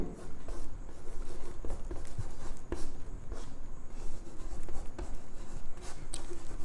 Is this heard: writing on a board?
yes